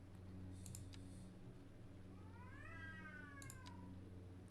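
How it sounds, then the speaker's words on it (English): A Bombay Burmese cat lets out a single drawn-out, rising and falling meow, faint and somewhat distant, amid soft keyboard clicks and a low room hum. "And if you just heard that, that's my cat"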